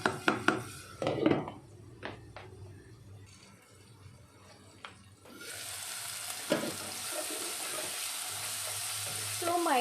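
Tomatoes and spices cook and get stirred in a pan for dal tadka, a steady sizzle building after a few scraping knocks, with clinks of a utensil against the pan.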